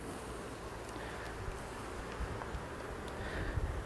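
Honeybees buzz around an opened beehive during an August hive inspection, a continuous soft drone of many wings close by with no talk over it.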